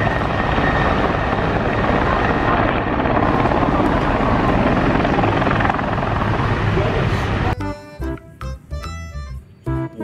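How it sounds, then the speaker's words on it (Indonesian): A loud helicopter drones steadily with dense rotor and engine noise for most of the stretch, then cuts off into a short burst of upbeat music. "Wow, ada helikopter."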